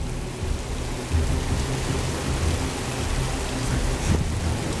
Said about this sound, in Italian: Una grandinata, guardate ragazzi.